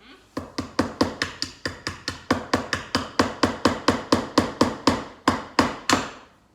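Sharp hammer blows strike nails into wood in a fast, steady series, about twenty crisp impacts close by, slowing slightly near the end.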